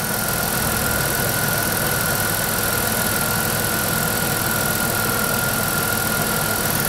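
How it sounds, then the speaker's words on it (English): Engine bay of a 1998 Chrysler with the engine idling and the AC compressor clutch engaged during an air-conditioning repair, a steady dense whir with a constant high-pitched whine running unbroken throughout. "Compressor clutch is engaged,"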